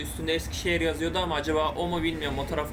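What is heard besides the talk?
No everyday noises stand out.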